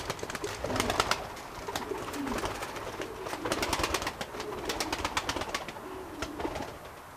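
Pigeons coo and flutter amid scattered wing claps and clicks, a steady murmur of birds close by with no voices.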